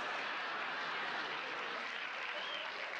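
Studio audience applause at a Mork & Mindy taping, a steady dense wash of clapping held at even loudness throughout, moderately distant with no voices over it.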